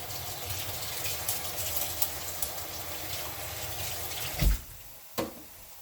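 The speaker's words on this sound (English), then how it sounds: "I'm going to wash my hands really good while that's cooking" Hands being washed under a running kitchen tap, a steady close stream of water splashing into the sink, with a couple of louder splashes near the end.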